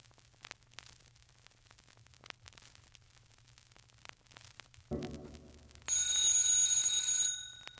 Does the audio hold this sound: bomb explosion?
no